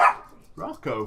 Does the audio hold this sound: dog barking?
yes